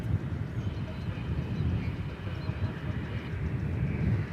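An American Airlines jet at Dallas Fort Worth Airport gives off a broad, steady engine roar at a moderate distance, a continuous rumbling wash with no pauses and no voices over it.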